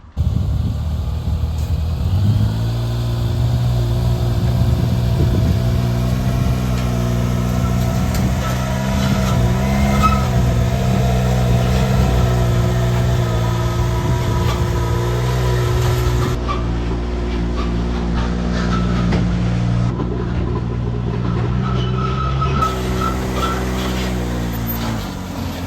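A UTV engine in four-wheel drive low, climbing deck ramps, a steady loud drone with layered harmonic hum that shifts slightly in pitch, continuous throughout with no talking.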